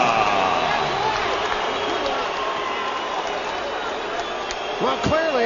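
A boxing arena crowd in Managua, Nicaragua roars steadily for former welterweight champion Ricardo Mayorga at his ring introduction, a dense sustained cheer with voices talking over it.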